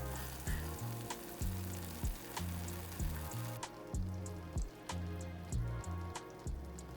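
Just Egg vegan egg fries in a pan with a soft, steady crackling sizzle and scattered pops, close but quiet, over a repeating low rhythmic background pattern.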